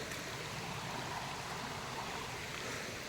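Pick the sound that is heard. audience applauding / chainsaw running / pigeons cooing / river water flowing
river water flowing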